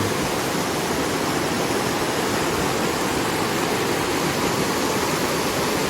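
River water flowing at Wang Nam Khiao, a constant broadband rush that stays even and close throughout, with no voices.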